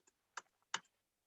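A few sparse keystrokes on a computer keyboard, switched to a Hebrew layout, give three or four quiet, close clicks with short gaps in a silent room.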